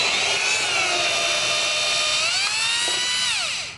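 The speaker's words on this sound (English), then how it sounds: "let's see if my chuck and my Milwaukee drill makes it pop out." A Milwaukee cordless power drill whines steadily at high speed, its pitch holding level, then dipping as it winds down at the end. Close and loud.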